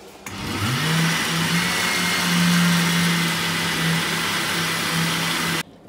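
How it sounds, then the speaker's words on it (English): Blender running continuously for several seconds as it purees a bean burger mixture seasoned with white pepper, salt, garlic and Scotch bonnet, a steady loud whirring motor hum that starts abruptly and cuts off at the end. "Now we're going to blend it for the last time."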